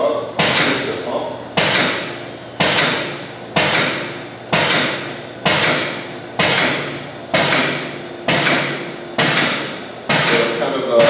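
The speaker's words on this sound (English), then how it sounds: "you can hear the pump starts chugging to keep up with the pressure" A pump in a CannabisSFE 1x1L extraction system chugs as it works to keep up with rising pressure, giving about eleven loud, evenly spaced thumping strokes roughly once a second, each one decaying before the next.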